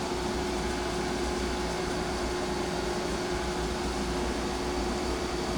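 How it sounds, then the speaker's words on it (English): A wire wheel runs continuously as an old pipe wrench is polished on it, making a steady whirring hum with a faint tonal whine and broad hiss, close and unbroken, with no talking. "I think I'm going to try it out on my wire wheel there and see if I can't polish it up"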